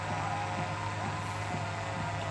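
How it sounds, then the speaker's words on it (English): A police drone flies overhead during a night confrontation with riot police at the Standing Rock protest, a steady broadband whirring hum that holds evenly throughout with no voices. "The noise you hear above is a drone."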